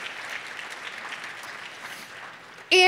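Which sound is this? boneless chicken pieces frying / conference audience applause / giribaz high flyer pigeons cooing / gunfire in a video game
conference audience applause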